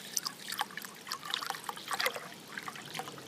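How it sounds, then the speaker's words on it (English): Water trickles and splashes into a bowl being filled to float a cut water lily bloom, a steady close pouring dribble with small bright splashes throughout, no voices. "we'll fill this up with some water"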